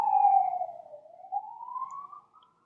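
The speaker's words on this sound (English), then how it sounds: "Sorry, I'm waiting for that siren to pass." An emergency vehicle siren passes outdoors, one long wailing tone that dips and then climbs again, fairly loud at first and fading away toward the end.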